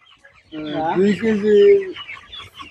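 A chicken on a poultry farm lets out one loud, close drawn-out cluck lasting over a second, with quieter farm sounds before and after.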